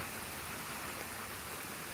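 Rain falls on a farm as an even, soft hiss of drops that holds steady and faint throughout.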